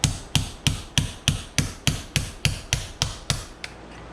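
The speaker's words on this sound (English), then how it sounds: "Why am I using the side of the hammer?" Sharp metallic hammer blows, struck with the side of the hammer, drive out a suspension pin during a Jaguar independent rear suspension rebuild: about a dozen evenly spaced loud strikes, close and ringing, the last one softer.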